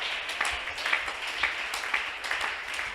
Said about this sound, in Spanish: Un aplauso al Dios que es sobreabundante.